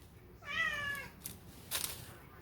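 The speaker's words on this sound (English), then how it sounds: "That's my cat." A pet cat gives one clear, drawn-out meow close by in a kitchen where candy bars are being oven fried, followed by a brief faint rustle.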